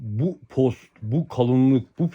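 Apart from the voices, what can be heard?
No distinct noise like a dog, phone or traffic.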